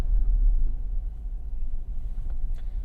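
A 2024 Jeep Wrangler Rubicon X two-door with the Pentastar engine pulls away, a deep low engine rumble heard from inside the cabin with some road and wind noise and no speech.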